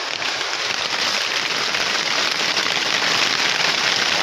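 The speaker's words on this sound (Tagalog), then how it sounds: "malakas yata itong ulan na to" Heavy rain pours down steadily, a dense, loud hiss of drops pattering on surfaces that continues without a break.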